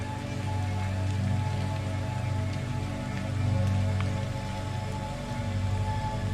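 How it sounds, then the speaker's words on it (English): Gentle, steady rain patters down evenly, a soft continuous hiss of drops with low ambient rumble beneath, calm and unbroken with no voices. "Now visualize yourself stepping out into the gentle rain."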